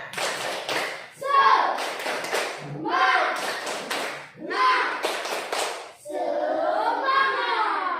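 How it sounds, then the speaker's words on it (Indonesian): A group of children claps a rhythmic spirit cheer in short, bursting bouts, with chanting voices running under and between the claps. "Ya, satu tepuk semangat."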